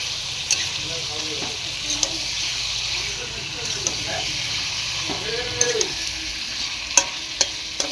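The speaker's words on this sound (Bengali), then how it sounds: "এখন চিকেনটার ভিতরে ভালো করে মশলাটা মিক্স করে নেব" Chicken mixed with spice masala sizzles in a pan, a continuous frying hiss broken by the scrape and clack of a spoon stirring, with a voice talking faintly in the background.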